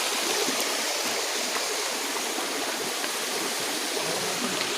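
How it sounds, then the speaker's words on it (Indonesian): A small mountain waterfall feeding a stream on Mount Tandikek pours in a constant bright hiss and rush, loud and close, with no other sounds breaking through. "Air terjun ada sini."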